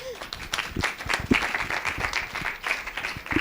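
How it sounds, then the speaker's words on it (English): Audience at a university open day for bachelor programmes applauding, an uneven patter of claps from a modest group, close and moderately loud, with faint voices mixed in. "a round of applause for our fellow course mates or schoolmates"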